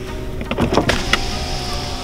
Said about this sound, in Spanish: vamos a abrir la ventana